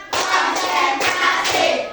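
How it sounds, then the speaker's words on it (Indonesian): A class of fifth-grade pupils clapping hands together in a steady rhythm, several loud, close bursts of group claps with no talk over them. "Tepuk satu. Tepuk dua. Tepuk tiga. Tepuk empat."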